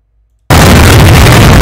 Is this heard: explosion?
yes